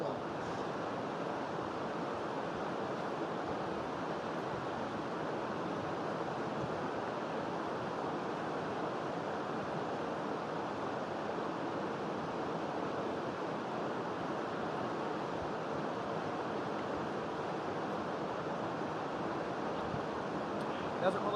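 Steady rushing of the Kern River flowing outdoors at a camping spot, a continuous broadband wash that stays even and fairly loud throughout with no clear voices.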